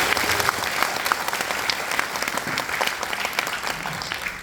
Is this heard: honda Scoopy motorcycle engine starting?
no